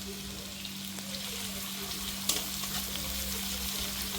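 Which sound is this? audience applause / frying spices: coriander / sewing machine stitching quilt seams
frying spices: coriander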